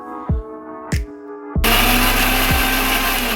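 A mixer grinder whirs loudly and steadily, blending tomato, garlic and onion into a paste with a little water, after a few short clanks and pulses before the motor settles into continuous grinding.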